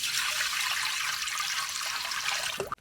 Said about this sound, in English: Now I'm going to take very carefully a little bit of the brine water and put it in this